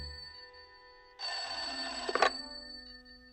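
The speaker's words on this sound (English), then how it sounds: "What's that? Sounds like the phone to me." A telephone bell rings in a radio drama, a single sustained ring of about a second that stops with a clattering pickup, heard clearly over quiet room tone.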